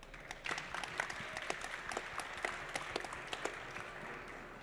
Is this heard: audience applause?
yes